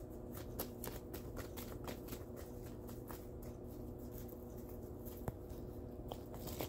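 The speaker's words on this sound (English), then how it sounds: "I shuffle a lot when I read." Soft papery riffling and light taps of tarot cards being shuffled, repeating steadily at close range with a faint background hum and no voices.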